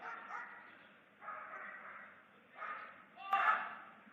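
Guard dog barking while protecting a bag: a few short, muffled barks at a moderate distance, rising toward the end, over low background murmur.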